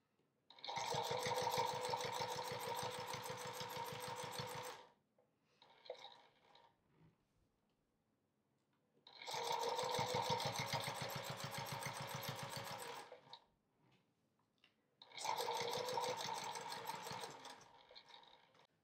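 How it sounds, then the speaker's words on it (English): A sewing machine stitching quilt fabric runs in three steady, close bursts of a few seconds each, separated by short quiet pauses with faint handling sounds. "Make sure you stitch over that opening really well."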